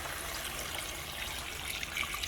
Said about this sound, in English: I'm pouring in some filtered water here